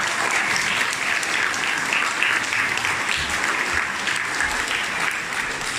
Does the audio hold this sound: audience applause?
yes